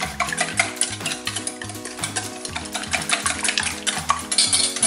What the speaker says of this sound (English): I'm gonna go ahead and give this a little whisk.